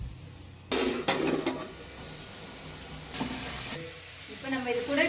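Onions and tomatoes sauté in a pan with a steady low sizzle. A spatula scrapes and stirs in a few loud strokes over the frying, with a brief rattle near the end.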